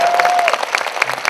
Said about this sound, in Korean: 감독님에게 박수 한번 주세요 여러분.